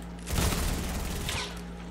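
Double pistols firing in a Fortnite match, a quick rattling volley of close gunshots packed into about a second, loud against a quiet game background hum.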